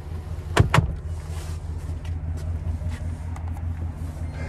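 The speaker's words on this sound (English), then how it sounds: "we can also power fold these seats up or down when the seats are up far enough" Power-folding rear seats in a 2024 Chevrolet Tahoe LT give a couple of sharp mechanical clunks, then a low, steady electric motor hum as they move.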